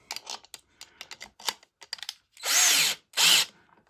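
Two short bursts of a power drill whirring loudly as it spins a leather strop wheel, preceded by scattered clicks and handling taps.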